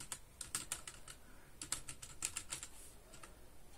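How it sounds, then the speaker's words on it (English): Keys clatter on a computer keyboard as a short command is typed in quick irregular bursts, close and fairly quiet with brief pauses between keystroke clusters. "Now, to exit out of iwctl, just type quit."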